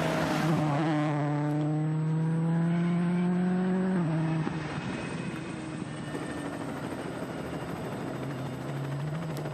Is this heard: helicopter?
yes